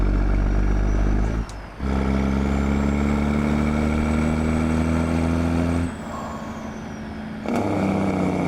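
A Peterbilt 359 semi truck in American Truck Simulator runs its engine brake, a loud, steady low rumble that drops off briefly twice between sustained stretches.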